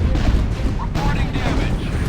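Gunfire in the war strategy game Art of War 3: rapid overlapping shots and booms rumble continuously, loud and dense, with no pauses across the short stretch.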